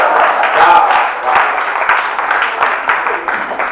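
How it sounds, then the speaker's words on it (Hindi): Audience applause at a poetry recital, a steady wash of many hands clapping at close to moderate distance, swelling early and then easing off with slight variations over a few seconds. "इस पंक्ति पर आप सभी की तालियां चाहता हूं"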